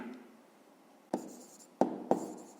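A pen scratches on paper during a maths lesson for fifth graders, with faint low scribbling first and then three sharper, louder strokes spaced apart near the end.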